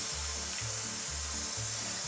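A kitchen blender runs on flour, water and oatmeal for a thick vegan beer cheese soup base, giving a steady whirring motor drone with a rhythmic pulsing churn as the batter cycles, fairly quiet and alone.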